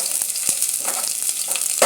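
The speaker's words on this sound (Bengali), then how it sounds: "এবার আমি পাঁচফোড়ন দিয়ে দিলাম।" Panch phoron, the Bengali five-spice mix, crackles and sizzles in hot oil in a pan while cooking khichuri, a dense close hiss broken by small sharp pops, with no voices.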